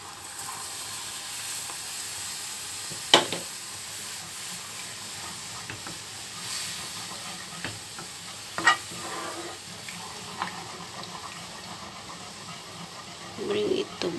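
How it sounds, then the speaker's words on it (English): Milk being stirred into a lasagna sauce in a pan, a quiet sizzling hiss with occasional soft scrapes and clinks of the spoon against the pan. "Stir in milk."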